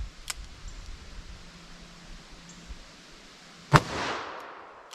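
A single sharp crack of a light .357 Magnum handload fired into ballistic gel near the end, followed by a brief rushing decay, over a quiet outdoor background.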